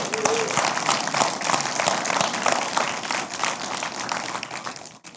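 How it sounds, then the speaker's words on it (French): Audience applause for a couple married some 61 years, a close, loud, dense rush of clapping holding steady for several seconds before cutting off abruptly. "Je pense que ça mérite un applaudissement"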